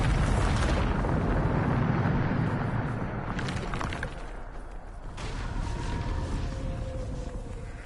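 A Bombarda spell explodes in the video game Hogwarts Legacy as a broad rumbling blast that fades out over several seconds with crackling debris, loud and close, no talk.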